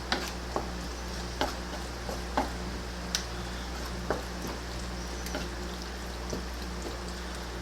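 A spoon stirs beef and cheese enchilada filling in a pan with the heat off. Light taps and scrapes come at an irregular, unhurried pace over a steady low background hum.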